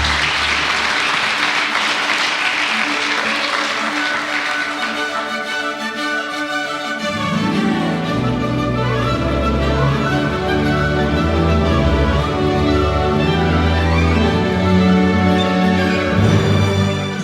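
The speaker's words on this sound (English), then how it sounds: "if I could just give all of the apprentices a round of applause at this moment." An audience claps for insurance apprentices at a certificate ceremony, loud sustained applause filling the room, fading into music with a rhythmic beat partway through.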